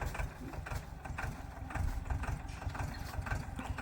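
A tractor engine runs at idle, chugging in a steady low rhythm, fairly quiet and unbroken.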